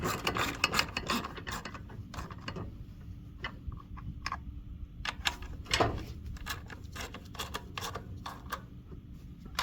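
Metal bolts being tightened down on a Generac generator, giving a long run of close, irregular ratchet-like clicks and ticks with occasional louder knocks.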